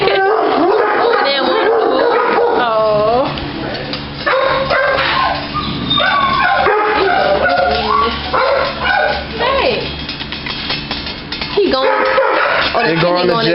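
A dog barks, yips and howls up close in a house, with drawn-out wavering howls and whimpers mixed among sharp barks, while people talk over it at times.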